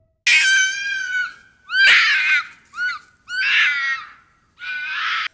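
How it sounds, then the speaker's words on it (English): Red fox screaming, a series of five harsh, high wavering shrieks separated by short gaps, loud and close with no other sound between. "Number 5, the screaming fox."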